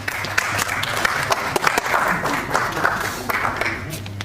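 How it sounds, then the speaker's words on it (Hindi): An audience claps continuously through a crowded award event for farmer producer groups, with dense, steady applause at an even level from start to finish. "जोरदार तालियां हो जाए उनके लिए।"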